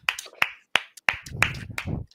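A person claps by hand to mimic a clap-button sound effect: about seven sharp, close claps in an uneven rhythm, the later ones running into a brief rustle.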